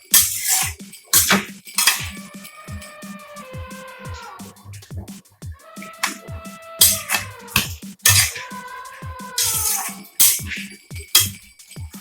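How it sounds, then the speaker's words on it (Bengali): A metal ladle scrapes and clanks against a pot of thick mutton coconut curry as it is stirred up from the bottom. Loud, close, repeated clatters and ringing knocks come in uneven bursts, with no speech. "তলার থেকে একটু নাড়াচাড়া করে দিতে হবে"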